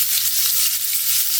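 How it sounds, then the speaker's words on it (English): Meat searing in a hot pan, a loud, steady bright sizzle with crackling that holds evenly for the whole moment, close up and without any voices. "So we're going to let it sear right here for a couple minutes."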